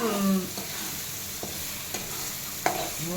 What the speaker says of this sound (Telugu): మన మసాలాని ఇలా వేయించుకోవాలి. అడుగంటిపోకుండా కలుపుతూ ఉండాలి మధ్య మధ్యలో, లేకపోతే మాడిపోతుంది.